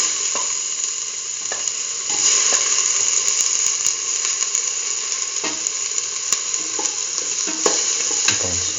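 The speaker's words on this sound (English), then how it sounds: "Now put in the tomato pieces." Chayote and tomato pieces saute in a pan with a loud, steady sizzle, while a spatula repeatedly taps and scrapes against the metal in irregular clicks, without talk.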